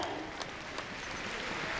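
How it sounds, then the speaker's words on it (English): Audience cheering and applauding at a Crufts Novice Cup small jumping agility final, a steady wash of clapping and crowd noise that holds evenly for under two seconds with no clear peaks. "Let's give them a big cheer as we finish on the 3 jumps to go."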